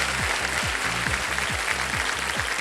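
A studio audience at the KBC quiz show claps together in a steady, dense rhythm, keeping time over a low repeating beat, continuous and fairly loud throughout with no talk.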